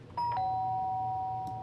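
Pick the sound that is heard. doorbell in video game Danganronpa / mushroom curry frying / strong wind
doorbell in video game Danganronpa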